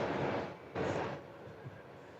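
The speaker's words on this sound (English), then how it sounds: "Is that our first train today?" A freight train passing near a baseball game, a brief rushing rumble that swells twice over about two seconds before easing, moderately faint.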